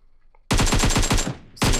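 Automatic gunfire in the mobile shooter game PUBG Mobile: a loud, rapid burst of about a dozen sharp shots that trails off, then a second burst starting after a short pause.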